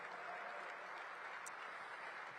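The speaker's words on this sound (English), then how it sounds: "Give them a big round of applause." Steady applause from an event audience honoring DC government public servants at a groundbreaking ceremony, a dense even wash of clapping held at constant level throughout, fairly distant with no voices standing out.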